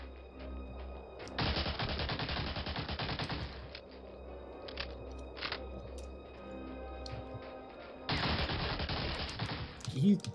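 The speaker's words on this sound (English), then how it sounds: "These guys are the most annoying because they just keep firing even though they're getting blown back" Enemy soldiers in the World War II shooter Medal of Honor: Allied Assault fire automatic weapons in two long, loud bursts of rapid gunfire, with shorter shots scattered between them.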